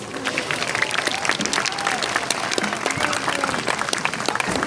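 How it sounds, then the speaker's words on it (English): An audience at Sea World applauds for several seconds, the clapping steady and dense, with voices and a child's calls mixed into the crowd noise. "So let's give them a round of applause."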